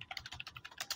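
Code being typed on a computer keyboard, a quick even patter of about a dozen light key clicks at close range, quiet and with no voice over it.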